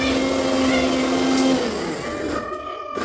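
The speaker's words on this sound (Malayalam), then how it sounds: "മിക്സി ഓൺ ചെയ്യുമ്പോൾ എപ്പോഴും എല്ലാവരും ചെയ്യുന്ന കാര്യമാണ് ഓൺ ആക്കി" A kitchen mixer grinder blending juice, a loud close motor whine that holds steadily and then drops in pitch as it winds down near the end, with no speech.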